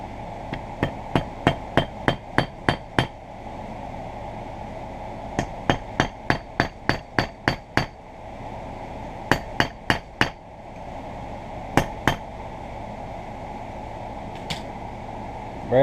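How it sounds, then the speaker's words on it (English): Hammer blows on a small anvil, shaping the parts of a 4-inch C clamp under restoration: sharp metallic strikes in quick rhythmic bursts of about six to ten hits, with pauses between the bursts and a steady fan-like hum underneath. "Put them on the little anvil."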